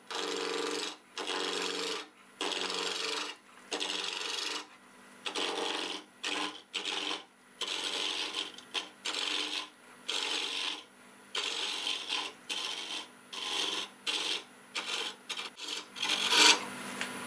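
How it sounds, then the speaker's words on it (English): A spindle roughing gouge works a spinning wood blank on a lathe at about 1387 RPM for a bottle stopper, producing repeated bursts of loud rasping cutting noise that start and stop in a regular rhythm. "I will use my spindle roughing gouge"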